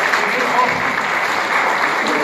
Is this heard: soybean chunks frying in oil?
no